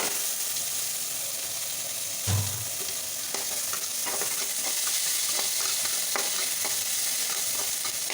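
Chopped onions drop into hot oil with bay leaf, cinnamon, cloves and cardamom, giving a sudden burst of sizzling that settles into a steady close frying hiss with occasional stirring clinks.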